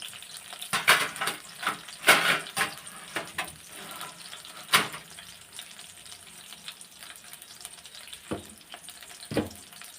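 Tempering for pepper rasam fries in hot oil in a pan, with a soft steady sizzle broken by sharp crackles and spatters, plus a few louder bursts as ingredients are stirred, with no talking.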